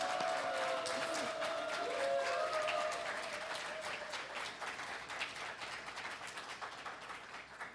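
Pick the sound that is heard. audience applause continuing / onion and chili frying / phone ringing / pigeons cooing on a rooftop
audience applause continuing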